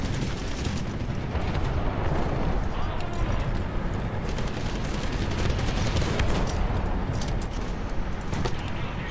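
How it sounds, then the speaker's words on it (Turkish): Gunfire and explosions in War Thunder as a Japanese Type 10 tank is hit and destroyed, with dense, loud blasts and bursts roaring without a break while a person talks over the battle. "Adam vurdu ve tankım yok oldu."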